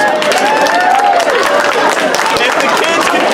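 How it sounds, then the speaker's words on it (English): Applause for children at a public school art show at Sotheby's, a dense, steady clapping crowd that carries at full strength throughout, with voices calling out over it. "One last round of applause for our kids."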